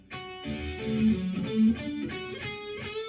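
Gritty, distorted electric guitar plays a short riff of sustained bent notes punctuated by sharp strummed hits.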